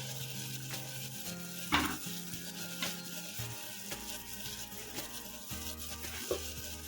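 Spice paste for a layer chicken curry being sautéed in a pan, a soft continuous sizzle with intermittent stirring and scraping clicks, fairly quiet and without talk.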